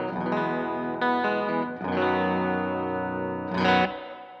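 A homemade baritone Telecaster guitar with a PAF pickup and bass contour switching plays thick, distorted chords through chorus and echo effects. There are several strummed hits and sustained notes, loud and close, with no talk.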